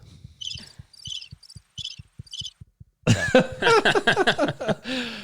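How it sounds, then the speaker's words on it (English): Cricket chirps in short, evenly spaced bursts sound faintly in a quiet room for a few seconds, followed by louder coughing and voices talking. "those are crickets chirping"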